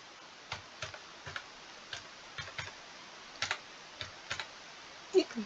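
Keys tapped on a computer keyboard while a phone number is entered, a sparse run of single clicks with short pauses, close and fairly crisp, no talking.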